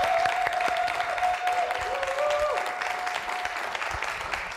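Studio audience applauding on a Slovak late-night talk show, a steady broadband wash of clapping throughout, with a faint tonal whine running beneath.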